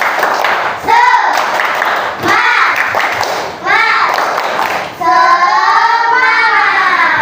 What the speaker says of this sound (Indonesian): Ya, kita semua tepuk semangat